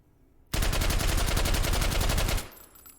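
A rapid burst of suppressed automatic rifle fire from an H51 in the VR shooter H3VR, a dense, loud rattle of closely spaced shots lasting about two seconds before cutting off into quiet.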